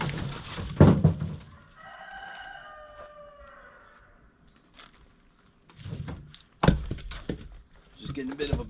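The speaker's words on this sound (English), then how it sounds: "old rooster." A rooster crows once, a drawn-out call at moderate distance, surrounded by short bursts of nearby clatter and voices talking before and after.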